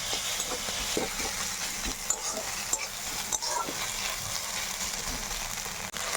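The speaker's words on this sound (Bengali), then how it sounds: "ডিমটাকে পেঁয়াজের সাথে একদম ঝুড়ি ঝুড়ি করে ভেজে নেবো" Egg and onion frying in a pan and being stirred into crumbles, a loud, continuous sizzle close by, with scraping stir strokes and a few brief dips, with no talking.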